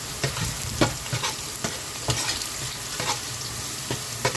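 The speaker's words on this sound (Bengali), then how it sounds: "তেলটা গরম হয়ে গেছে, এবার দিয়ে দিই রসুন আর লঙ্কা।" Garlic and chili sizzle in hot oil with a constant crackling hiss, punctuated by repeated spatula stirs and scrapes at a steady rhythm, close by and without speech.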